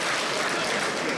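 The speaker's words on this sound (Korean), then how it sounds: "라면 이야기하는 게 박수 쳐버려요" Audience applause during an opening worship service at a national elders' retreat, a steady dense wash of clapping throughout, fairly distant and even, with no talk over it.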